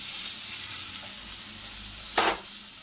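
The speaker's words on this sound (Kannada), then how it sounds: "ಈರುಳ್ಳಿ ಹಾಕೋತಾ ಇದ್ದೀನಿ. ಇವಾಗ ಚೆನ್ನಾಗಿ ಫ್ರೈ ಆಗಬೇಕು." Onions sizzle steadily in a hot pan for brinjal dal sambar, a continuous close hiss with a brief louder burst of sizzling near the end, no voices.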